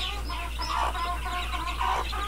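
Several chickens cluck and murmur close by, with a continuous low hum in the background and no talking.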